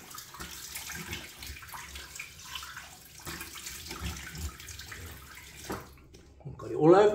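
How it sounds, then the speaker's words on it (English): Warm water runs from a tap as someone rinses their face after a wet shave, a soft, continuous splashing under faint murmured talk, ending in a brief sharper burst of water. "Warm water rinse."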